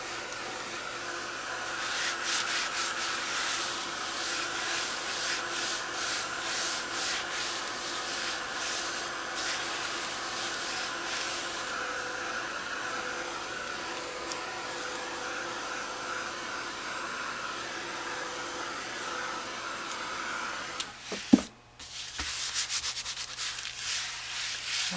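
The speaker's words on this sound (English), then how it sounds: "I have to dry it before I can sand it" A hair dryer blows steadily over glossy muslin art journal pages, and rubbing, sanding scrapes run underneath. The close whirring drone continues almost unbroken, then briefly cuts out near the end. No one speaks.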